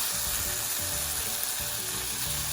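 Chili powder and turmeric being stirred into a frying Goan prawn chilli fry masala, giving a steady close sizzle and crackle of oil with faint stirring scrapes and no talk.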